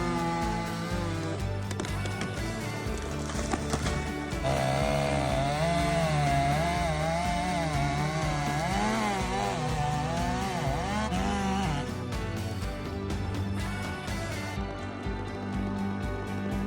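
Chainsaws cut through tree branches during a forestry operation, a loud, steady engine roar with shifting pitch as the blades bite into the wood, continuous and close throughout.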